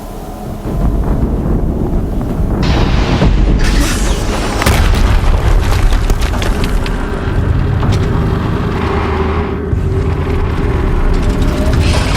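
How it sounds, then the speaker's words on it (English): Loud booming explosions in the video game Horizon Zero Dawn, a heavy rumbling blast with rolling low-end roar and crackling debris sustained over twelve seconds, no speech. "Explosion."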